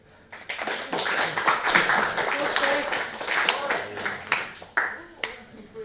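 A small group claps briefly and unevenly, with some chatter and scattered sharp claps trailing off at the end.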